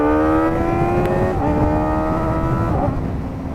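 A Kawasaki Ninja ZX-4RR motorcycle holds a loud, steady high-pitched engine howl while being ridden, its tone dipping briefly and then climbing again, with strong wind rumble underneath.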